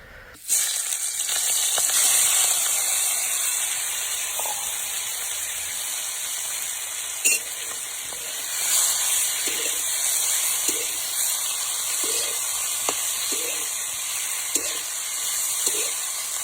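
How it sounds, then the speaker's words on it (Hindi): Prawns frying in oil in a pan, a steady bright sizzle and hiss that runs throughout, close and loud, with faint soft knocks in the background. "आम चुंगुड़ी पकईकी भाजवा।"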